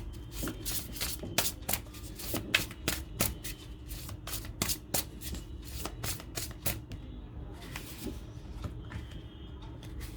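A deck of tarot cards being shuffled by hand, a fast run of crisp riffling flicks and slaps repeating steadily and close, with no voices over it.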